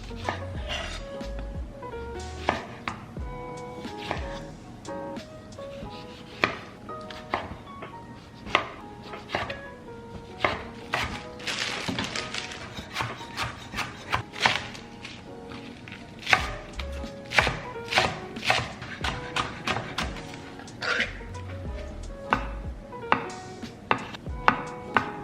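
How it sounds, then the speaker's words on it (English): Iceberg lettuce, cilantro, green onion and tomatoes being chopped on a cutting board, with a steady run of close knife strikes over faint background music and no talk. "The rest of the toppings I have to chop up."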